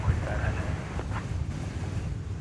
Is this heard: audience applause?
no